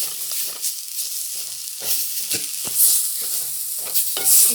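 Ground masala paste for a Tamil crab curry sautéed in a pan over low heat, a soft sizzle broken by rhythmic scraping and stirring strokes close by, with no voices.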